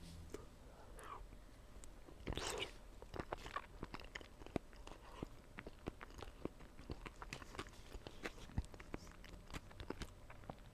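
Soft crunchy bites and chewing of potato salad with celery, close and quiet, with repeated small crisp crunches amid whispered talk.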